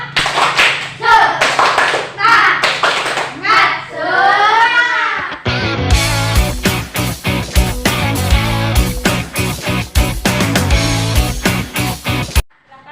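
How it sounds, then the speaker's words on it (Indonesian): A class of students claps for a group of classmates in a school classroom, dense hand claps starting midway and continuing steadily after a stretch of talk. "tepuk tangan untuk kelompok 1"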